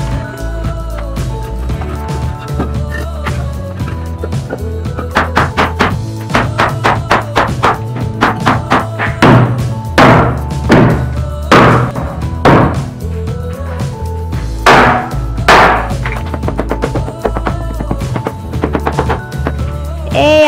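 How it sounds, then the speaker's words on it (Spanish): Concrete countertop formwork being pried and knocked loose from a cast slab: a busy run of wooden thunks, taps and knocks, some loud close impacts clustered in bursts, with occasional voices in between. "quitamos la cimbra."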